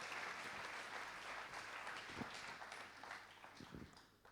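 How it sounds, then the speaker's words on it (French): An audience applauds steadily at an evening awards ceremony, a sustained wash of clapping from many hands that fades slightly near the end, with no talk over it. "On vous applaudit bien fort"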